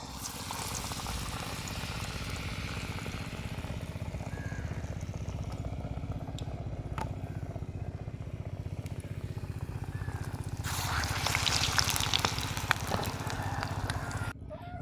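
Cabbage spring rolls deep-fry in hot oil, a dense steady bubbling hiss that swells louder near the end with a brighter burst of sizzle, heard close with no voices.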